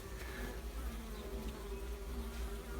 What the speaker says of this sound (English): Okay, so I've woke the bees up